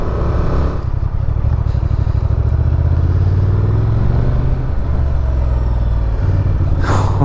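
A Honda XL750R Transalp motorcycle rides along, its engine a loud, continuous low rumble with a steady throbbing pulse, heavy wind noise on top, and a brief rise in hiss near the end.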